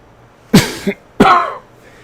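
Two sharp, close coughs about half a second apart, the second rougher and longer, with quiet room tone between them.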